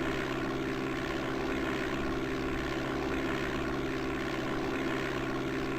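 Steady, droning engine hum of a propeller airplane taking off in the DOS game Flight Simulator 5.1, a continuous buzzing drone at constant loudness with no talk.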